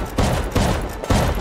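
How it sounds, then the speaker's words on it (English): A shotgun trap in the survival video game Rust fires repeatedly, three heavy blasts spaced about half a second apart, loud and close with a booming low end. "there's a shotgun trap here."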